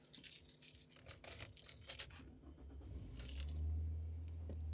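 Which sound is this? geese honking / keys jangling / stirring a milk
keys jangling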